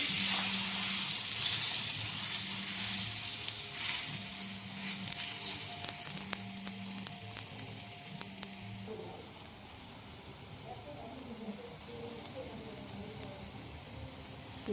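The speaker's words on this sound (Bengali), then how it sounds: "তেলটা গরম হয়ে গেছে, তো আমি এবার পেস্টটা দিয়ে দিই।" Spice paste dropped into hot oil in a home kitchen pan sizzles loudly and steadily at first, with faint ticks of spatter, then fades to a quieter crackle partway through.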